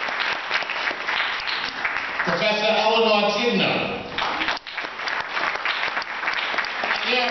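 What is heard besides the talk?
hand claps applause for honorees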